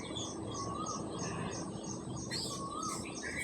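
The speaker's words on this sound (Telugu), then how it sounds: "పిట్టల సౌండ్ వస్తుంది కదా ఫ్రెండ్స్" Birds chirp and tweet in short bright calls outdoors near green paddy fields, with repeated phrases over a soft insect and ambient background, fairly close and without any talking.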